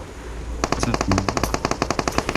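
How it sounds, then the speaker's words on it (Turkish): Rapid automatic gunfire from PUBG Mobile, a loud burst of evenly spaced shots that starts after a brief pause and rattles on steadily to the end. "Bana sıkıyorlar abi daha çok."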